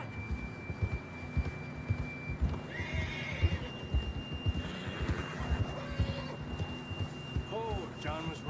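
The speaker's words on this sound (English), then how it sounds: "John was riding that horse when we left Blackwater." In Red Dead Redemption 2, a horse's hooves clip-clop in a steady rhythm while it snorts and lets out whinnies, all fairly quiet and close.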